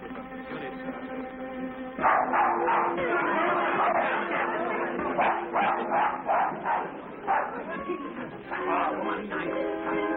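A dog barks in a series of sharp bursts over several seconds, mixed with background music and indistinct chatter.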